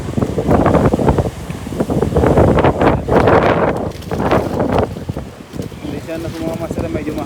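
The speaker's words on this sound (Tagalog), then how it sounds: "medyo mahangin talaga" Strong gusts batter a small fishing boat at sea, roaring and buffeting the microphone in heavy surges while people talk over the noise.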